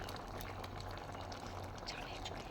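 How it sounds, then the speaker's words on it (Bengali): Cauliflower simmering in a pot of water for a chholar dal, a continuous low bubbling boil with a faint steady hum, close and fairly quiet, no voices. "এখন কিছুক্ষণের জন্য ফুলকপিটা সিদ্ধ করে নেব"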